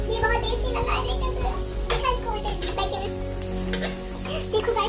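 Chow mein stirred and sizzling in a hot frying pan, steady close scraping and frying noise throughout, with children's voices chattering over it.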